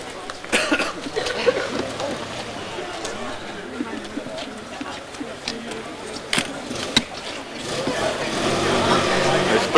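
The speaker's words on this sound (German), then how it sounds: "Brummen die Motoren." Car engines hum and rumble at the start of a 1989 district relay race, a steady broadband drone with scattered knocks and a crowd murmuring and talking throughout.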